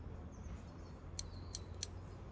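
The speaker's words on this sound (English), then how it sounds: "I hate when I hear the gritty noise in my scissors" Three short, crisp metallic snips of dirty scissors spaced apart over a quiet, low background hum, with a faint gritty scrape between cuts, while repotting a cottonwood ground layer.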